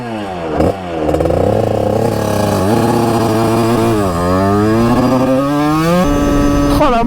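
A 50cc motorcycle engine runs loud and close, with its pitch rising and falling through several revs and gear changes and a brief clattering start, and no talking.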